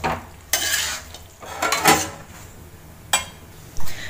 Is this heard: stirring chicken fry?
yes